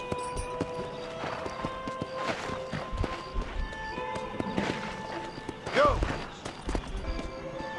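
Horse hooves clip-clop in Red Dead Redemption, a steady walking rhythm of close, clear knocks over game ambience and music, with a short louder burst near the end.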